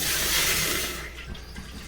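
A brief rush of water pours into a pot, loud and close, then cuts off after about a second, leaving faint clatter.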